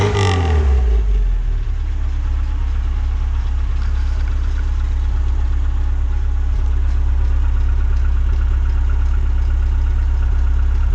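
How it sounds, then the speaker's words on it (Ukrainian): A car engine treated with Mannol additive for decoking piston rings gives a brief rev that falls away, then settles into a loud, steady idle close by, with no voices. "попробуємо чуть-чуть погазувати і подивитися, що воно буде"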